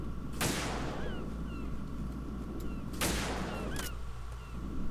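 Two sharp gunshot bursts from shooting in Metal Gear Solid 2, the first near the start and another about two-thirds through, each trailing off over steady game background noise.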